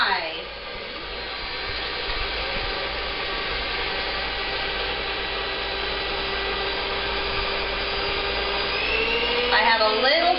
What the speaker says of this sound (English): This is just room temperature egg whites, and I'm going to mix on high.